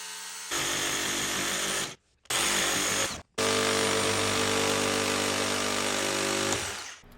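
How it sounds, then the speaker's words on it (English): A circular saw and a Sawzall cut through a 2x4 beam for a staircase build, making loud, close, continuous high-pitched whining and buzzing bursts with two brief pauses, then one long sustained cut that stops abruptly near the end. "I used my circular saw to cut through the beam partially and finished it off with my Sawzall"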